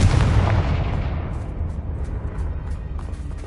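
A Confringo explosive spell blasts a bridge in Hogwarts Legacy with a loud, booming detonation that rumbles and slowly decays over several seconds, with scattered debris crackles as it fades.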